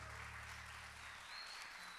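Audience applause at a Saturday night soiree with a live performer, a steady wash of clapping from a crowd that holds evenly for two seconds over a low hum, no voices.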